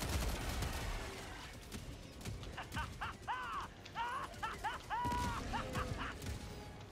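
Autocannon fire in the video game Helldivers 2 comes as rapid, heavy bursts mixed with chirping game effects and explosions, while players talk over the noisy battle.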